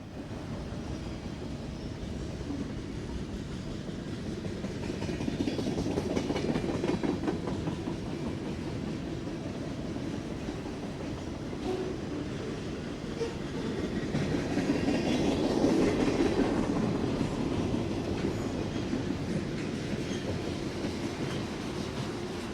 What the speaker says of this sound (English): This train is the southbound counterpart of the earlier 196